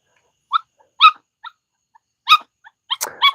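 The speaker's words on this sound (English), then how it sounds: "You guys can probably hear these puppies barking" Excited puppies barking in short, high yips and little barks, several separate bursts spaced irregularly, loud and close against a silent background.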